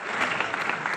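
Audience applause for a young girl winning second prize at a Haryanvi stage event, dense steady clapping from a crowd with no talk over it.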